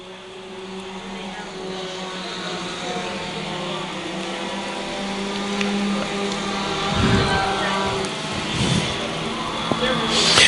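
Race cars roar around a speedway oval in a stock and modified class main event, a steady engine drone building slightly as they pass, with a race announcer talking over it throughout.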